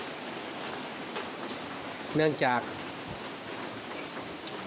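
Steady rain falls around a rural Thai house, making a constant, even hiss throughout. Someone speaks briefly in the middle over the rain.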